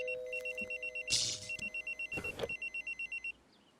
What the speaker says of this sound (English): an amazing beeper sound